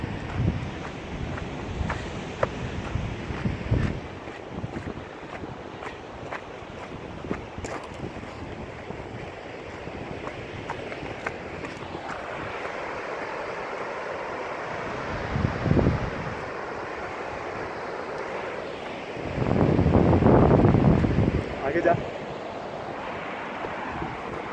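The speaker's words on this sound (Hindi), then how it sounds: "ये पानी का जो शोर है ना ये खौफ देता है" A loud, steady roar of rushing river water fills the scene on a mountain trail, broad and constant, with a few brief knocks and a louder surge near the end.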